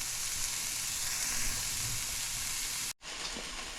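Carrots frying in a pan make a constant close sizzle that briefly drops out near the end and then resumes, with no voices over it.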